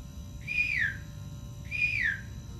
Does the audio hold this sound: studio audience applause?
no